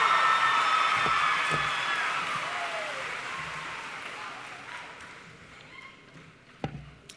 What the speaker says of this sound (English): Please help me give one more round of applause to our singer,